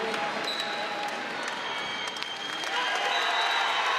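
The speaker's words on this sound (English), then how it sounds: "And you hear the roar of the crowd." A crowd roars and applauds at an ACC Wrestling Championship semifinal match in Blacksburg: a dense, steady wall of cheering that stays loud for the whole stretch, with some voices mixed in.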